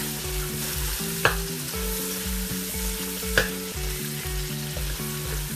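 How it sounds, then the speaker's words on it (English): A stick of butter melts in a pan for a shrimp and herring Alfredo, giving a steady low sizzle with rhythmic stirring scrapes and two sharp utensil clinks, close and moderately loud with no talking. "And you're gonna let that melt."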